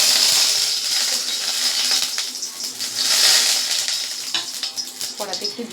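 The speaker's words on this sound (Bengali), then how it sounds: "কড়াটাতে আমি তেল দিয়ে দিলাম" Cooking oil sizzles steadily in a hot kadai on the stove while paneer is being prepared, with a loud, close frying hiss and a few light metal clinks near the end.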